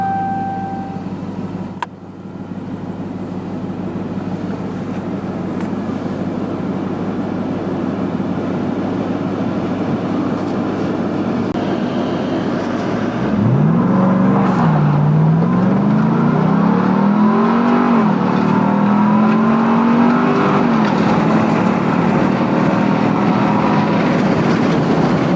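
A 2021 Ram 1500 TRX pickup with a 6.2-liter Hemi V8 and four-wheel drive sits at a steady low idle, then launches hard under launch control partway through, its engine note climbing and shifting through gears loud and close.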